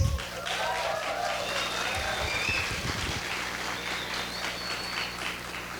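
Applause from an audience at a law conference session on medical and health law, a steady sustained patter of clapping with faint voices and murmur underneath.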